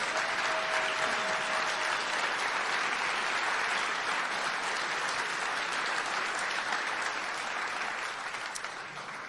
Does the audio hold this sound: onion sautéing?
no